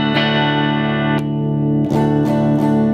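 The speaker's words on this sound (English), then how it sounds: "This is what that neck pickup sound, or the lack of neck pickup, that position on the switch sounds like with that cap." A 1955 Fender Esquire electric guitar with the selector in its neck position, played through a four-by-ten Hot Rod DeVille amp with flat EQ and a little reverb: sustained strummed chords, restruck several times, loud and alone.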